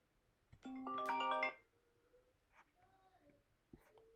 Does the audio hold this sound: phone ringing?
yes